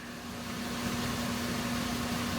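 A 2010 Chevy Impala engine idles on a shop rack with a vacuum leak, giving a steady, even drone with a constant low hum and broad hiss, unchanging and without speech.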